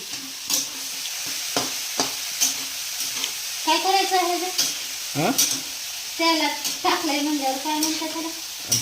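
Grated carrot fries in oil with a steady low sizzle, broken by intermittent scraping stir strokes, while a voice hums or sings in the background partway through.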